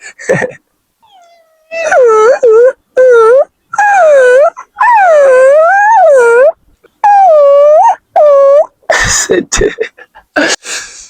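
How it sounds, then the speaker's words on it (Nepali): Dogs outdoors whine and howl in a series of drawn-out, rising and falling cries with short gaps between them, loud and close, followed by a person talking briefly near the end. "कुकुर चाहिँ यता राम्रो छन्, तर के गर्ने यार, यस्तो खुङखार छन्"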